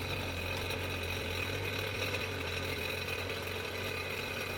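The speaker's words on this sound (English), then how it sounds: "You're now going to need to run the engine for 2 minutes." A Sea-Doo GTX personal watercraft engine idles steadily on land during a coolant flush, with a garden hose attached, giving an even, moderately faint drone with a low hum and faint rattle throughout.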